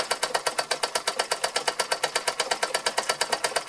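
An 1897 Carette toy steam engine runs under steam with a fast, regular chuffing beat, about eight puffs a second, close and loud and steady throughout.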